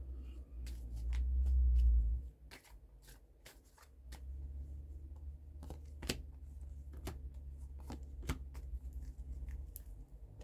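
Fortune cards shuffled by hand during a star-sign reading, a run of soft riffling and sharp card snaps repeating close by over a low steady rumble, with no talk.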